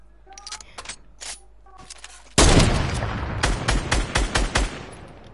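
Video game gunfire erupts suddenly midway, a dense loud burst followed by a string of rapid sharp shots, with quieter clicks and faint speech-like sounds before it.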